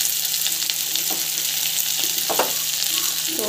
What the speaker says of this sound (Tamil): ஸோ நல்லா வதங்கிட்டேன்